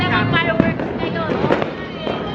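New Year fireworks crackle and pop continuously in the distance, with scattered sharper bangs over a dense background rumble, while people talk and shout nearby.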